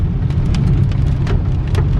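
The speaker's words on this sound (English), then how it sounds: "Today, we're stuck in traffic during a thunderstorm." Heavy rain pours during a thunderstorm around a car stuck in traffic, a loud steady wash with a deep rumbling undertone and scattered sharper drop hits, no voices.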